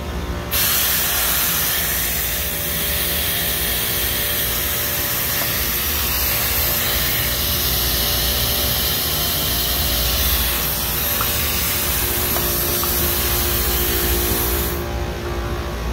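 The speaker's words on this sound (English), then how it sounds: "See if I can bleed out what's in the compressor." Compressed air hissing out as a P170 high-pressure compressor is bled down, a loud continuous spray-like hiss starting abruptly and holding steady before cutting off near the end.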